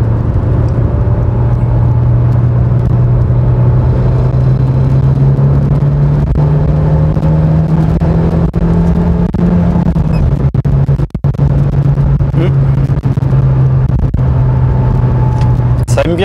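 A Peugeot 406 coupé with a 2.0 16v engine drones loudly from inside the cabin, its pitch climbing steadily as revs build, then dipping and holding, with a voice talking over it at times.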